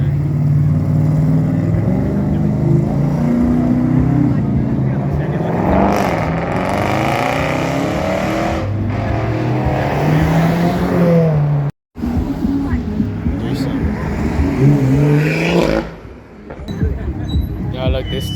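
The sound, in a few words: car engine revving at a car meet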